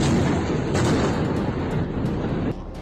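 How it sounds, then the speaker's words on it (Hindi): Repeated booms and blasts of war bombardment rumble continuously, with several sharper cracks standing out against a dense, heavy low roar. "लगातार धमाके हो रहे हैं"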